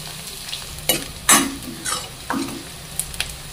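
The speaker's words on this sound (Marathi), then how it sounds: "एक कांदा बारीक चिरलेला या तेलात परतून घेऊया" Finely chopped onion stirred in hot oil with cumin and curry leaves, giving scattered short bursts of stirring and frying noise over a low sizzle, moderately close, with no talking.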